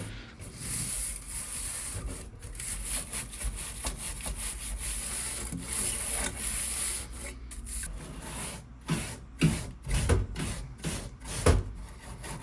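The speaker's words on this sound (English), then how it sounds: "I'm going to use a toilet brush and I'm scrubbing up and down" A toilet brush scrubs up and down across a dirty HVAC evaporator coil, making rapid, rhythmic bristly rasping strokes that grow louder and choppier toward the end, close up with no talk.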